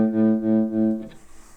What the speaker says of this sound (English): This is the point where it sounds like the amp's cutting out.